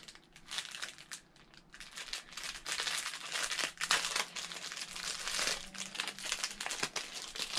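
Crinkly plastic packaging of a Dragon Ball Z mystery box being pulled and torn open, giving a steady stream of close crackling and rustling with no talk.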